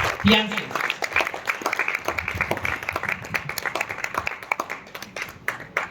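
Audience clapping at a motivational seminar, a dense crackle of many hands under a presenter's voice, with claps picking out as sharp separate bursts as the sound thins toward the end.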